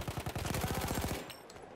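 Rapid automatic gunfire from a Battlefield 1 weapon with a 25-round magazine, a dense burst of evenly spaced shots lasting over a second, loud and close, then cutting off abruptly into quieter game ambience.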